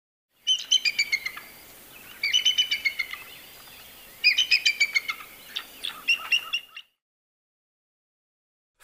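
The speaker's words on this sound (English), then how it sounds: "Bald eagle." Bald eagle calling in repeated bursts of high, thin chittering notes, four quick series spaced over several seconds, clear and fairly close with no other sound.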